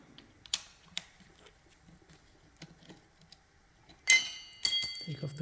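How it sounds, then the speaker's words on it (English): Small metallic clicks and clinks from a wrench unscrewing two bolts on the rear brake caliper of an Urbanbiker Dakota bicycle, sparse taps followed by a louder rattle of parts near the end. "Unscrew these two bolts here."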